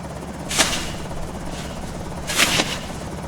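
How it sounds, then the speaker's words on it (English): A helicopter circles overhead in the video game Project Zomboid, a steady low rotor thumping with two brief sharp bursts of noise on top. "Helicopter. I'm outside, so it will probably circle around me multiple times."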